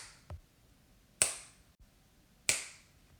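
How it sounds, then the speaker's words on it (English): Three sharp finger snaps, alone and fairly quiet, spaced roughly a second apart with short decays. "I can snap my fingers and get some more math done"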